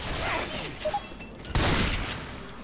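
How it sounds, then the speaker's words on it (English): Gunfire bursts in Left 4 Dead 2, a short burst early, then a louder broadband blast at about 1.5 seconds that keeps ringing with more shots, all at close range with no speech. "I may have shot you a little bit there"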